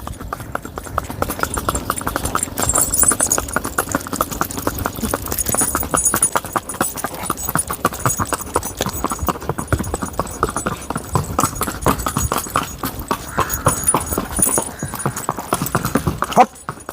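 Steady clip-clop of a Sindhi mare's hooves as she walks along, a close, even rhythm throughout with soft background voices now and then.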